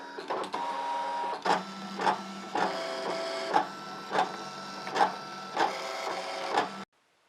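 An electronic cutting machine runs a blade through fabric, giving a steady mechanical whir punctuated by regular clicking carriage moves and pauses, close and fairly loud, until it stops abruptly near the end.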